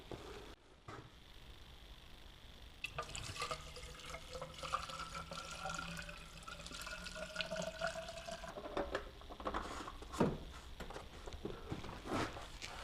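Water runs and splashes while a BMW E46 Compact engine-bay part near the power steering is cleaned, a steady hiss broken by irregular spatters and drips, moderately close with no talk.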